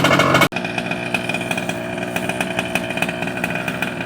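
A modified Rampage RC truck's small gas engine revs loudly at close range, a buzzy, raspy two-stroke whine that cuts out briefly at the start, then settles into a steady rattling idle with small throttle blips.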